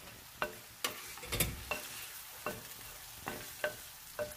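A spoon stirs a tajine sauce with saffron threads and raisins, making a quiet, rhythmic series of about eight distinct scrapes and knocks over a faint low simmer.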